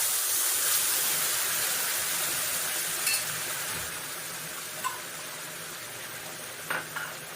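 Hot water poured into a pan of roasted semolina for sweet rava kesari, giving a steady close sizzling hiss with faint stirring clicks, no talk.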